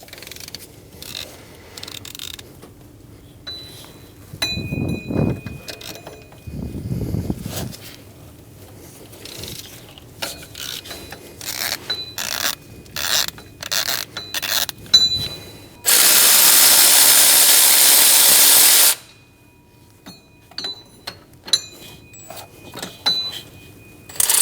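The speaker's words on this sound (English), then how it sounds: "Using a 15mm socket, we're going to remove 2 bolts for the power steering pump on the front." A 15mm socket on a ratchet removing the power steering pump bolts on a Chevrolet Express 2500 with a 4.8L V8, giving repeated ratchet clicking and metallic tool knocks up close, with one long loud hiss-like burst partway through.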